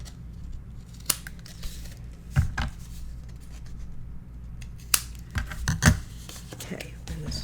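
Scissors snip through paper while a Christmas patchwork memory book is being made, a few close, sharp cuts spaced irregularly over a quiet room with faint handling noise.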